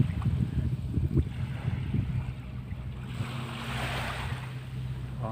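Ocean waves wash and roll in a low, continuous rumble, with wind noise and a surf swell rising midway, at Baseco Beach in Manila.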